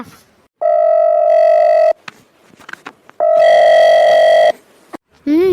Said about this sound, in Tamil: ரிங் சவுண்டு போகுது